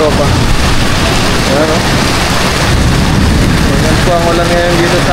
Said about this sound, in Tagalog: Grabe, ang lakas po ng ulan.